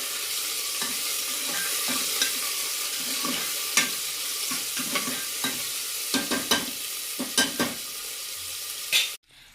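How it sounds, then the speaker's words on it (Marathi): Chopped tomato sautéing with softened onion in a pan for a pavta bean curry, giving a continuous close sizzle broken by frequent stirring scrapes and taps, with a sharp clunk right at the end. "त्यात मी चिरलेला टोमॅटो टाकते। हा टोमॅटो मी ह्याच्यामध्ये चांगलं परतून घेते।"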